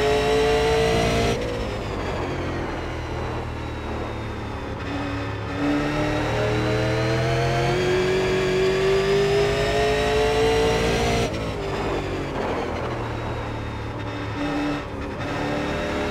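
Super Late Model race car engine in iRacing, revving and droning loud and continuous, with pitch climbing and falling through gear changes and corners along the track.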